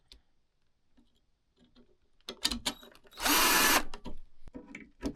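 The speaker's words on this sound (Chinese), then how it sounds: "可以把这个螺钉啊，再重新的给它装上" A power drill drives screws into an IFP plate on a ski binding, one loud half-second whir after quiet handling clicks and taps, followed by more clattering of parts up close.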